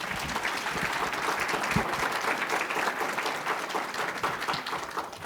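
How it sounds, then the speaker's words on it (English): A room full of people applauding a panel at a housing summit, a thick continuous wash of clapping that stays fairly even throughout. "Could we give the panel a round of applause?"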